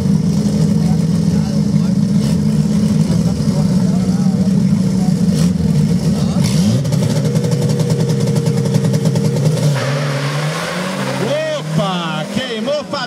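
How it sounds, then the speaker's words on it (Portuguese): A turbo front-wheel-drive drag race car roaring loudly during a warm-up burnout before a knockout final, a sustained engine drone that drops and shifts near the end, with a commentator talking over it. "E Rogério Bernardi, Fabiano Cerro no burnout de aquecimento para a final do mata-mata categoria dianteira Turbo C."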